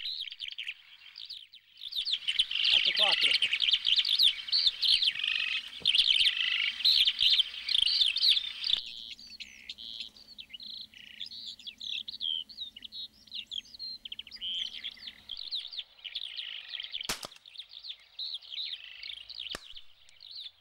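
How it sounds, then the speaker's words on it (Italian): Migrating skylarks calling in autumn, a dense chorus of bright chirps and trills at first, thinning to scattered calls, fairly near and alone. "Le allodole in migrazione sono uccelli estremamente curiosi"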